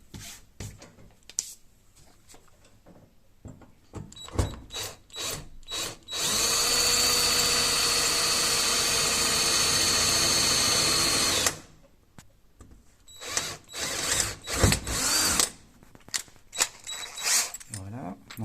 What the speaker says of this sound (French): j'ai percé ici, donc maintenant il va falloir que je continue de manière à transpercer